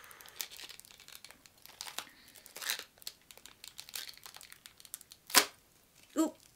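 Glued cardboard packaging is peeled and torn off a figurine box, giving scattered crinkles and crackles with a sharp ripping tear near the end, close and fairly quiet.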